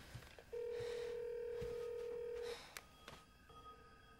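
A house telephone in the film Monster House gives a single steady electronic tone lasting about two seconds, fairly clear over faint background clicks and room noise.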